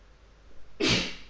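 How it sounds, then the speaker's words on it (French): A single sharp human sneeze, close and fairly loud, a short burst following a brief quiet intake of breath. "Je viens d'éternuer donc voilà"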